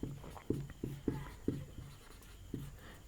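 Pen writing physics notes on paper, a series of short scratchy strokes in an irregular rhythm, close and fairly quiet, with no talk.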